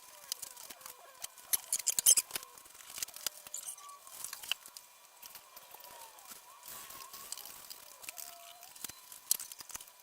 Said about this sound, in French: il découpe son tissu